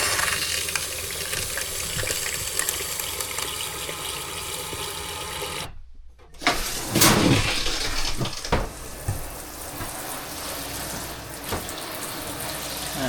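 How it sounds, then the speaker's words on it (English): Hot water running from a tap in a travel trailer being de-winterized, a steady close hiss of flowing water that cuts out briefly, then gushes back loudly and settles into a continuous stream. "Let's turn on the hot water."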